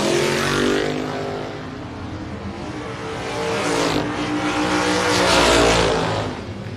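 A Corvette and a Blazer launch off the line at a drag strip, their engines revving hard in a rising, sweeping roar that swells, dips and surges again up close.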